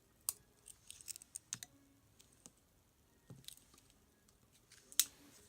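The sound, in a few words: Swiss Army knife scissors being opened and handled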